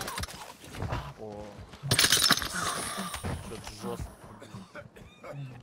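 An enemy player trapped inside toxic gas in the DMZ video game coughs repeatedly, with harsh bursts heard under someone talking.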